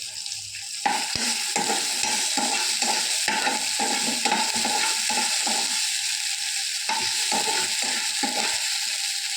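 Garlic and ginger paste frying in hot spiced oil, a steady loud sizzle running throughout with repeated scraping stir strokes of a spoon against the pan, no voices.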